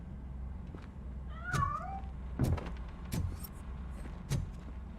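A cat meows inside the RoboCop: Rogue City video game, with a clear wavering cry followed by a few short, fainter mews over steady low background hum.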